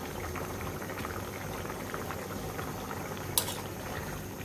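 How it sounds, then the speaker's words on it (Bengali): Pumpkin and rohu fish curry at a steady rolling boil, with a continuous bubbling, gurgling texture close by and one brief bright clink partway through. "আমাদের তরকারিটি বলক চলে আসছে।"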